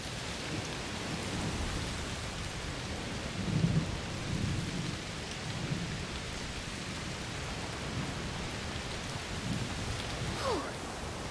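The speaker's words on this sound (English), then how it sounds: "Oh, it's raining a lot." Heavy rain pours steadily in a stormy scene from the video game A Plague Tale: Requiem, with a low thunder rumble swelling briefly partway through; the whole soundscape is soft and distant.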